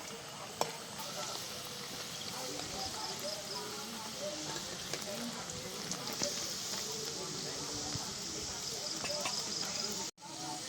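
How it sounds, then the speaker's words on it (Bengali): Food crackles and sizzles in hot oil, a steady frying hiss with scattered pops and occasional stirring clinks throughout. "তেল গরম হয়ে গেছে, এবার এগুলোকে ছেড়ে দেবো তেলের উপর।"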